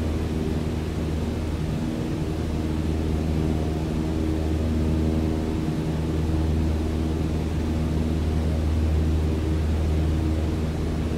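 Continuous loud drone of a light aircraft engine climbing and accelerating after takeoff in a circuit in Microsoft Flight Simulator, a steady broadband roar with no breaks and no voices.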